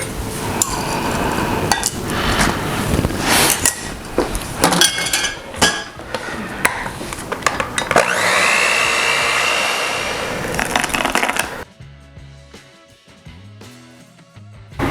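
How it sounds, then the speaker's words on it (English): Electric hand mixer beating cream cheese in a bowl for a 1960s blueberry cream cheese jello salad, clattering against the bowl with scraping and clinking, then a steadier whir before it cuts off, followed by quieter kitchen sounds. "I'm going to take the mixer and beat the cheese into"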